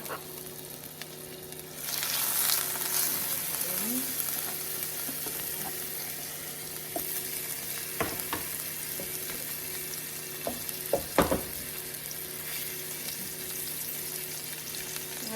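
Cajun-spiced cod fillet frying skin side down in a hot pan, a steady close sizzle that holds throughout, with a few sharp clicks and knocks from the pan near the end.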